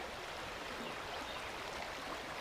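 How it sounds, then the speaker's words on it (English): A rain-swollen creek at a water crossing in Shawnee State Forest rushes in a steady, loud, unbroken wash, close by and alone with no voices. "it's a swollen creek here"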